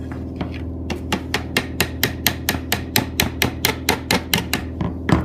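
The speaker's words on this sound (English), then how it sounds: "Gentle tap with a hammer." Light, evenly paced hammer taps on metal, about fifteen crisp strikes in a steady rhythm, close up with no talking.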